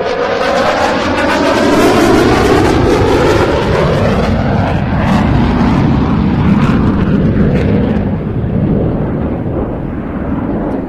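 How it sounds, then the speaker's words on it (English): A Eurofighter Typhoon jet makes a fast pass at an air show near 600 knots, a loud, sustained roar with a sweeping pitch that swells and slowly fades across the pass, with no talk over it. "the Typhoon has available to accelerate back to around 600 knots for another fast pass"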